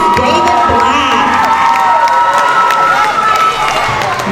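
An elementary school award ceremony audience cheers and shouts loudly, with children's voices whooping and some clapping in a sustained, lively roar.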